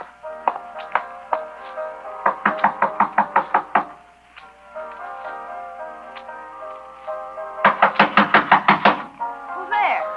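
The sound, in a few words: knocking on a door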